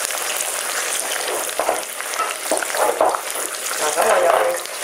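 Steady crackling sizzle of food deep-frying in hot oil, continuous and fairly close, with faint voices now and then underneath.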